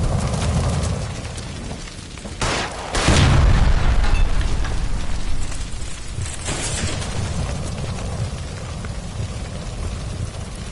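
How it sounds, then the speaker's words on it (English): A gas line by a stove explodes in L.A. Noire with a loud, deep boom roughly a third of the way in, followed by a long crackling, rumbling roar like rushing fire or debris. "Shoot the gas line, Cole"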